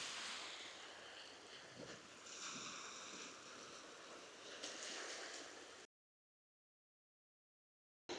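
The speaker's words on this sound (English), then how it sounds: "Wow, these waves are really loud." A continuous loud roar of crashing ocean surf mixed with wind buffeting the microphone, then it cuts abruptly to silence.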